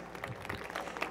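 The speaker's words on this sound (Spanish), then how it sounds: "un aplauso, ¿no? Por favor, para Lev" Audience applause at a Mexican tech conference on technology for social change, a brief burst of dense clapping from a crowd, steady and fairly close.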